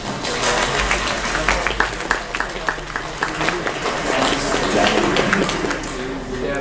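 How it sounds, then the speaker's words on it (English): A crowd at a Wii U preview event in the Nintendo World Store applauds, with dense continuous clapping and scattered cheers lasting throughout, while someone speaks faintly beneath. "So, round of applause for Jason and Jacob."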